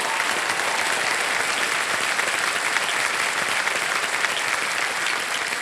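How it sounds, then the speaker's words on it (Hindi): Loud, dense applause from a TV quiz show studio audience, a continuous wash of clapping filling the whole stretch at an even level, with no talk over it. "एक बार जोरदार तालियां हो जाएं इनके लिए।"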